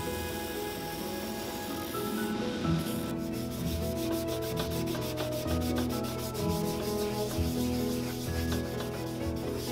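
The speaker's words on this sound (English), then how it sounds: "Now we're over at the sanding machine, and we will take this through at least three different grits of sandpaper" Sanding machine grinding the sole of a Ferragamo loafer during restoration, a steady close rough rubbing and scraping that holds at an even level throughout with no voices.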